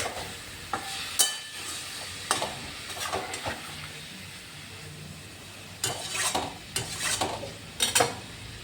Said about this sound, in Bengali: অল্প করে সামান্য জল এর মধ্যে দেবেন, অ্যাড করবেন, দিয়ে ভালো করে নেড়ে